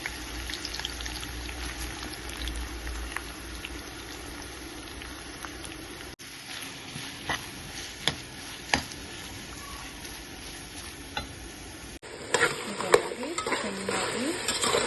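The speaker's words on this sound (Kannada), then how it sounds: "ಸ್ವಲ್ಪನೇ ಈರುಳ್ಳಿ ಹಾಕ್ಕೊಂಡು ಗೋಲ್ಡನ್ ಫ್ರೈ ಮಾಡಿ ತೆಗೆದಿಟ್ಕೊತೀನಿ ನಾನು." A small amount of onion fries golden in oil in a pan. A steady, moderate sizzle with bubbling continues throughout, broken by occasional sharp stirring clinks and scrapes, and it grows busier near the end.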